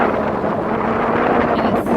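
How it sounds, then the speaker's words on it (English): Strong wind roars and buffets against the microphone at MacDill Air Force Base, Florida, a dense rumbling rush that holds steady throughout with no voices. "And it's still very windy"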